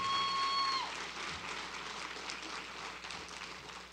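Audience applause at a 2018 graduation ceremony, honoring first-generation graduates: a dense, steady wash of many hands clapping fills the whole stretch, loud and continuous with only slight swells.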